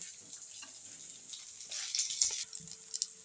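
Brinjal (eggplant) slices frying in a pan, a soft steady sizzle and crackle with occasional faint stirring clinks, heard close and fairly quiet with no talking.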